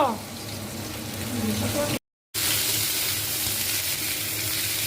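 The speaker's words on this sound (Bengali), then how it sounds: "এই তো মাছ কড়া করে ভাজবো" Fish frying crisply in hot oil, a dense continuous sizzle and crackle heard close and loud, briefly cut off by a short gap of silence before resuming.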